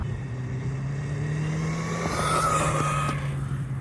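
A Hosim X08 RC car running on a 3S battery, its electric motor whining steadily, then rising and roughening as it veers off into grass, heard alone at close range.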